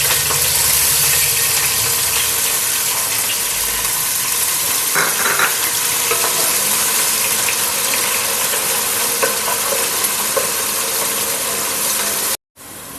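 Chopped onions and spices frying in hot oil for bhagara rice with mutton, a loud, steady broadband sizzle and crackle that continues unbroken before cutting out briefly near the end.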